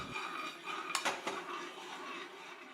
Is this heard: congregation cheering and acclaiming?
no